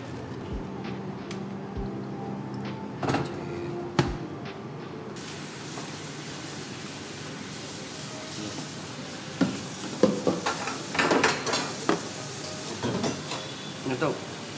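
Rice vermicelli frying in a pan for bihun goreng: a continuous sizzle that grows busier partway through, with clanks and scrapes of stirring, while people talk in the background.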